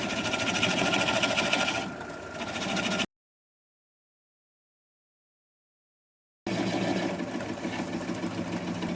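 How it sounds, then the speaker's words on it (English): A wood lathe spins yew while a 3/8 inch swept-back bowl gouge cuts it away, making a steady mechanical hum with a rough cutting texture. A stretch of silence breaks it in the middle before the same sound resumes. "Then I'm going to take a 3/8 inch swept back bowl gouge and just keep working that away"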